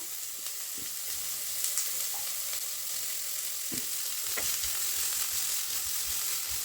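Baby corn and carrots stir-fry in a hot pan with a steady, close sizzle that runs the whole time, broken by a few soft clinks and scrapes as the vegetables are stirred.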